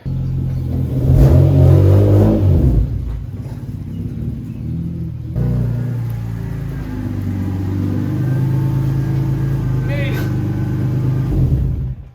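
A car pulled out of a garage bay and turned around while being set up on new coilovers and wheels, its engine rumbling and revving up near and loud, with speech over the steady idle.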